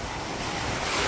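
Ocean waves break and splash close by at Bondi Beach in Sydney at the end of winter, a loud, continuous wash of surf and spray with some wind noise and no talking.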